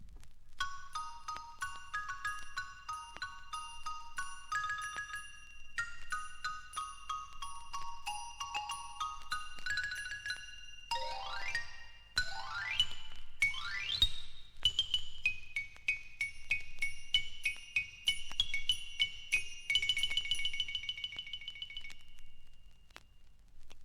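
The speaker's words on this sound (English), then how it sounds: "With it we have teamed the Chinese finger cymbals, which make a tiny, exquisite sound." Bright, delicate metallic tones ripple in quick melodic runs and glissandos, with high tinkling pings ringing out near and clear, no voices.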